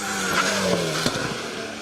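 A modern Alpine A110 rally car on a special stage at Rally Wervik passes near, its engine note sweeping down as it goes by, with a brief tyre squeal and gear change amid a continuous roar.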